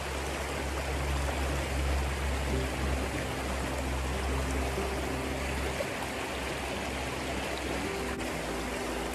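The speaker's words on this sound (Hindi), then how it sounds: "देखो आप पानी की आवाज़ सुनो" A natural stream flows steadily through countryside farmland in Germany, its continuous broadband rush and trickle holding an even, fairly close level throughout with no talk.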